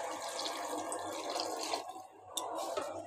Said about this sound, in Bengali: জলটা ঢেলে দিলাম।